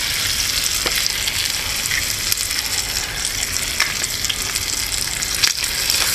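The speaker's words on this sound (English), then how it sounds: "In with the egg and I'll just scramble it up." Egg scrambles in a pan over a Solo Stove Lite double-wall gasifier wood-burning stove, with a loud, continuous frying sizzle and occasional stirring scrapes close by, and no voices.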